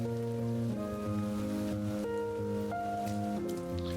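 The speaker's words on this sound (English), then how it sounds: "Schedule disrupted by the sudden rain, he begins to look for a place to take cover from the rain." Steady rain hisses beneath sustained, shifting musical chords in the video game Behind the Frame, the downpour a constant soft wash under the music throughout.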